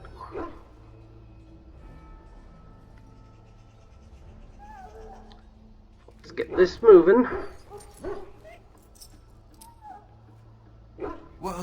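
Dog in Dragon Age whimpering and yipping midway through, a brief cluster of whiny barks amid quiet background and a few spoken lines.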